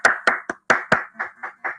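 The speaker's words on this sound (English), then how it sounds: "Let's get that man a hand clap." Single person clapping hands in eight sharp, separate claps at an uneven, deliberate pace, close and fairly loud with brief pauses between.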